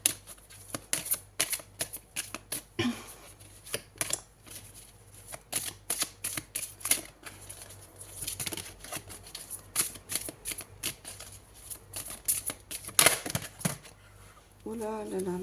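Tarot cards shuffled close up in quick, irregular bursts of riffling and slapping, with brief pauses between handfuls and a voice talking intermittently over the shuffling.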